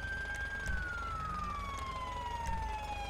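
A police car siren in the video game GTA 5 wails steadily at a distance, one long tone sliding slowly downward over a low background rumble.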